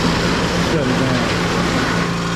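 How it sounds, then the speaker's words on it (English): An air compressor running in a workshop, a steady loud mechanical drone with a low hum that fills the whole stretch. "The air compressor kicked on."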